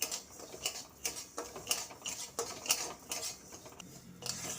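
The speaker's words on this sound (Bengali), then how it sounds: "এখন চালটা খুব ভালোভাবে ভেজে নেব" One and a half cups of Gobindobhog rice are dry-roasted in a pan until reddish, with a spoon stirring and scraping in a quick, steady rhythm of soft clicks and taps, close and quiet, with no talk.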